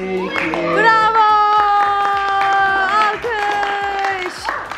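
Clapping at a child's birthday celebration, with scattered sharp claps under voices singing and cheering; children and adults talk throughout.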